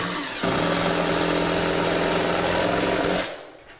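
A power drill or impact driver drives screws into a kitchen cabinet, a steady close motor whine running for about three seconds before stopping.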